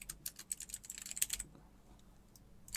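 Typing on a computer keyboard during a Photoshop tutorial, rapid clicky keystrokes in a quick burst that stop halfway, with near silence after.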